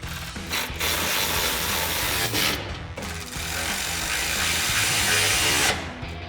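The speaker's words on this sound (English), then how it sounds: "come back with our ratchet and our 14 millimeter socket and tighten down our flange nuts on our elevator bolts." A hand ratchet with a 14 mm socket tightens flange nuts on elevator bolts while mounting nerf step bars on a 2019-2024 RAM 2500, producing rapid, close clicking in several bursts with brief pauses between strokes.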